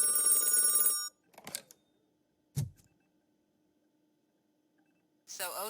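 A telephone rings in the video game Detroit: Become Human, a loud burst of ringing for about a second, then brief thuds and quiet before another ring starts at the end.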